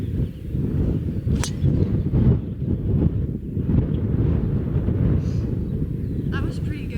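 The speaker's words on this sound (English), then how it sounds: "I'm not playing 18 today because this wind is horrible." Strong gusts buffet the microphone on a golf course in roughly 35 mph winds, a loud, constant low rumble that fills the whole stretch with a few faint sharp ticks and no clear talk.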